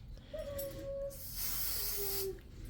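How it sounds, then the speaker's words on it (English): Basting spray from an aerosol can is sprayed onto embroidery fabric in two short, quiet hissing bursts, close by, against low background hum. "Basting spray."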